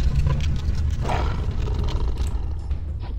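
A roaring, whooshing burst of flame from the fire wave spell in Gothic 2, a loud, dense rush that swells and rolls continuously without pause.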